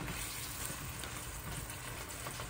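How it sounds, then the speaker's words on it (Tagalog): Shrimp cooking in a pan as a flavouring for bottle gourd, being stirred, with a steady frying sizzle that holds at an even, moderate level with no talk. "haluin po natin yung ating hipon"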